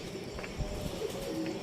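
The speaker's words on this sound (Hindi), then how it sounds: "छत पर कोई भी नहीं है तो यहाँ पे ये एक कबूतर बैठा हुआ है" A pigeon perched on a rooftop gives a soft, low cooing under steady outdoor background noise, close by, with faint chirps from other birds.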